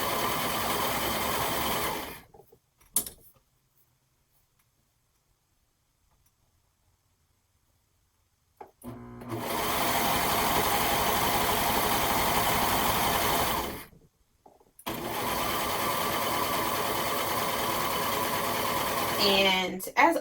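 A sewing machine runs in steady bursts while stitching fabric for a romper, with a continuous mechanical whir in two long runs separated by quiet pauses.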